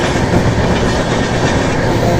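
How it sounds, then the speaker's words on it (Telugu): Steady, loud rumble and rattle of a train rolling along the tracks, with continuous clickety-clack from the wheels and no voices. "ట్రైన్ అయితే స్పీడ్గా"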